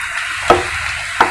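Onions and green chillies frying in a pan give a steady sizzle, with two sharp scrapes of stirring spaced under a second apart, close and fairly loud, no voices.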